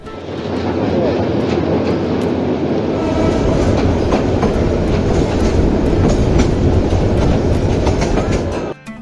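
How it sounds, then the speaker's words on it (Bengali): A passenger train pulls into Dewanganj station, a loud, steady rumble with clattering wheels holding for about nine seconds before cutting off abruptly. "এই ট্রেনে করে আজকে আমরা দেওয়ানগঞ্জ এসেছি"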